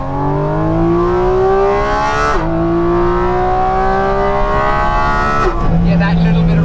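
A Porsche 911 GT3 engine revs hard at high rpm, its strong, rising harmonic note climbing steadily and dipping briefly at two shifts. The sound is close and loud, with a hint of speech under it.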